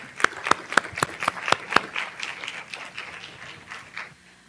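At a school board awards meeting, a few people clap in a sparse rhythm of sharp, distinct claps near the start, then softer, scattered clapping that fades out.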